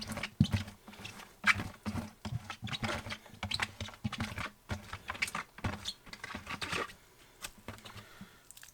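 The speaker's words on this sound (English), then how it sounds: "scrape out the last of this container" Bedding is scraped out of a container into a worm bag holding African nightcrawlers, with close, busy scratching and scraping in irregular bursts and no talking.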